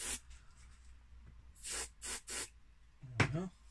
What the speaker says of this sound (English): Bit of a spray into there.